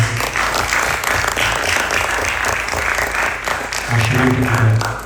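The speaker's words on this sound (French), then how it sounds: "un tonnerre d'applaudissements pour Nicolas." A crowd applauds loudly and steadily, dense clapping filling the room from start to finish, with a voice briefly rising over it near the end.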